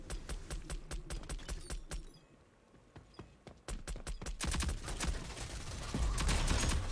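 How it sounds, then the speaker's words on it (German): Automatic gunfire in the video game Rogue Company cracks in rapid, loud volleys, pauses briefly, then resumes with heavier, denser bursts. "Das war ein Schuss."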